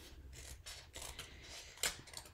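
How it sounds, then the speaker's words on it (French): Scissors cutting cardstock for a handmade pennant card, a series of quiet close snips and rubbing slides in an uneven rhythm, faint overall, with no talking. "c'est pour ça que je prends mes ciseaux"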